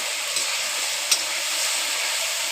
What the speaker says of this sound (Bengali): আজকে দেখো মাছের তেল ভাজা হচ্ছে এখানে মাছের তেল আর এখানে হচ্ছে পেঁয়াজ আর আলু ভেজে নিচ্ছি